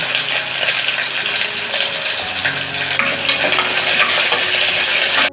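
Crushed garlic and curry leaves fry hard in hot oil for a spicy village chicken rassa, a loud, dense, continuous sizzle with stirring, close up and with no talk.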